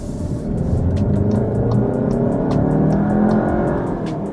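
A 2022 Volkswagen Tiguan Allspace R-Line with 4Motion all-wheel drive accelerates, its engine giving a steady, loud, sustained drone heard from inside the cabin, with faint periodic ticks over the continuous rumble and no talking.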